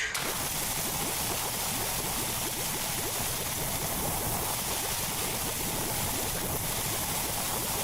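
A pressure washer in Power Wash Simulator 2 sprays soap in a continuous, steady hiss that stays loud and unbroken throughout, with no talking.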